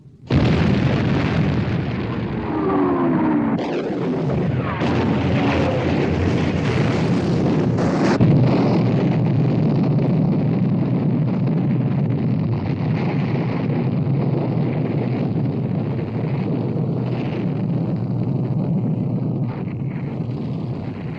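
Naval gunfire from a WWII warship battle: loud, continuous roaring blasts and booms sustained throughout, with sharp bursts near the start and a steady rumbling wash under them, no voices.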